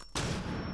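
A flashbang grenade going off in the video game Rainbow Six Siege: a sudden loud bang after a short quiet moment, followed by a sustained ringing, roaring wash of noise.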